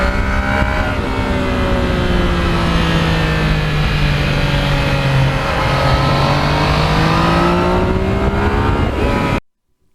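A Yamaha MT-09 motorcycle engine held at wide open throttle roars loudly and close, its pitch climbing and dipping through the gears for several seconds before cutting off abruptly.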